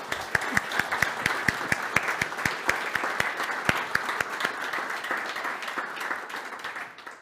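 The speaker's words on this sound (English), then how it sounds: "I'm getting back to clapping. Please join me." An audience at an opening-remarks session claps steadily, with a few sharp, regular claps standing out from the dense crowd applause before it gradually thins toward the end.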